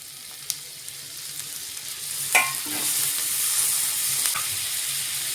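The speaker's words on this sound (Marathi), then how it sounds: "आता टाकून घ्यायचा आहे टोमॅटो" Onion and tomato being stirred into a hot pan, with a couple of light clicks, then a sudden burst of sizzling that settles into a steady frying hiss.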